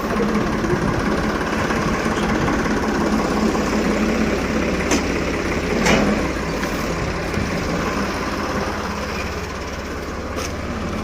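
A farm tractor's engine runs steadily and close by, a continuous low mechanical drone with a few brief knocks, and no talking over it.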